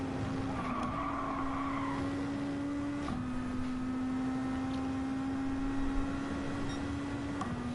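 A Group 2 Nismo race car at Kyoto in a racing video game runs on soft tyres, its engine holding a steady high drone. Tyre squeal whines over it throughout, with a brief pitch dip and shift near three seconds.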